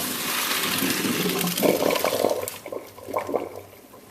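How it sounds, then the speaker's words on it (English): Boiled pasta water poured out of a pot into a sink while making mac and cheese, a steady rushing pour that splashes loudly, then trails off into intermittent gurgling drips, with no talking. "So I'm just going to drain this."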